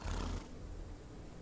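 A horse in an old west video game lets out a loud, rough neigh or whinny in the first moment, then trails off into a lower, steady rumble with no talking.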